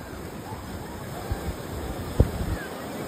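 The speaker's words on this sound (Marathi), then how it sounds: "तर गाईज लाटा खवललेले आहेत. पूर्ण लाटा खवललेत बाबा." Rough sea waves wash ashore at Arnala beach, a steady broadband surf rush with wind buffeting the microphone and a couple of soft thumps.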